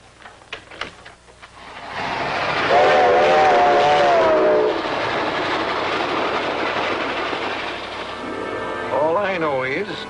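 A 1940s passenger train rolls along the rails with a steady loud rumble and rhythmic clatter, a long wavering whistle sounding in the middle and again near the end, with brief speech at the start.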